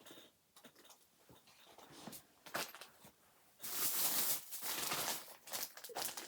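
Rustling and crinkling as hands dig through a bag of zippers, with scattered clicks and a louder stretch of rummaging near the end.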